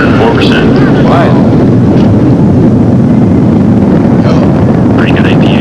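Space Shuttle Discovery's main engines roaring during its 1988 launch ascent as it passes through max Q, a loud, steady, wind-buffeted rumble that fills the whole stretch, with radio voices faintly under it.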